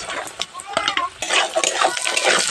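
Onions sizzle in hot oil in a pan as they are fried until reddish, with a steady close hiss broken by scraping and clinking as a spatula stirs them, plus brief murmurs of a voice.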